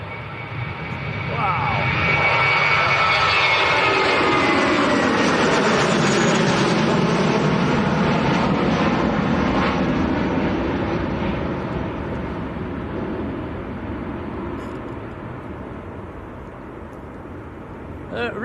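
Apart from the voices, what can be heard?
Turkish Airlines Airbus A321 taking off from Manchester Airport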